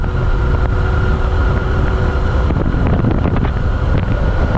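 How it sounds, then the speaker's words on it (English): Strong wind buffeting the microphone during a motorbike ride on mountain roads in Vietnam, a loud continuous rumbling roar with gusty fluctuations across the whole stretch. "The wind, so windy."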